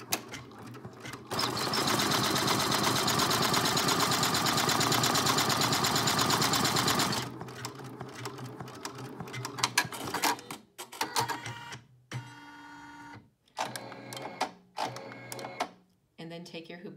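An embroidery machine stitches an applique felt piece, a loud fast needle rattle running steadily for about six seconds, then stopping. Scattered clicks, handling noises and a speaking voice follow.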